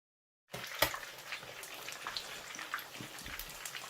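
Fish sizzling in hot oil in a pan for a Nigerian stockfish and melluza stew, a steady crackling hiss with scattered pops, moderately close and fairly quiet.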